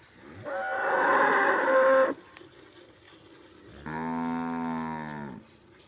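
A Cholistani Friesian cow lows twice, a loud, close, drawn-out moo followed after a pause by a second, steadier tonal one, with no talking.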